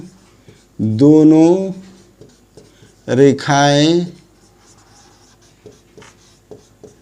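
Chalk or marker scratches faintly on a board during a Class 10 maths lesson on linear equations, drawing lines and writing points, broken up by a voice speaking in two short stretches.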